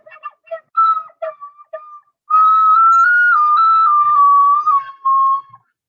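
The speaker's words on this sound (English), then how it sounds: "a tin whistle or penny whistle" A tin whistle (penny whistle) played solo indoors, a few short detached notes followed by a longer sustained melodic phrase with gentle pitch bends, bright and close, no talking.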